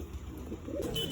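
Pigeons give a soft, low cooing, faint and brief, against quiet background noise at a spot where rain has just started.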